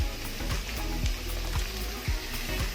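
Chopped onion and chilli frying in a pan for restaurant-style mixed fried rice, giving a steady close sizzle with quick crackling pops and no talking.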